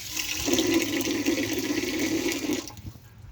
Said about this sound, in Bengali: পানি দিয়ে দেবো।